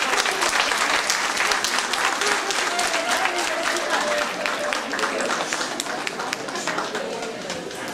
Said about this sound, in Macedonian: Ве молам да ги поздравиме со еден аплауз.